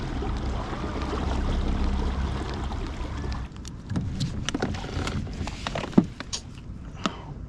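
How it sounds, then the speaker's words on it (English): Dual motors driving a Bonafide PWR 129 kayak at maximum speed hold a steady droning rumble for about three seconds, then cut out, leaving lighter water splashes and a few knocks against the hull. "The motor is like on a maximum speed."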